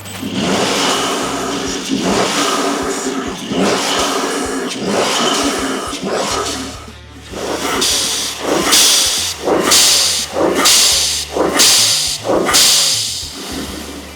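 A Mercedes C43 engine with an MST cold air intake revs repeatedly in sharp bursts, each followed by a loud hissing whoosh of a GFB DV+ blow-off valve, close and loud.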